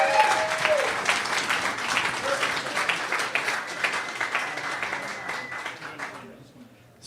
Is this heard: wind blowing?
no